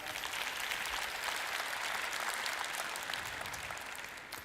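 Audience applause at a conference session on mobile content, a steady wash of many hands clapping together, sustained for several seconds before beginning to fade.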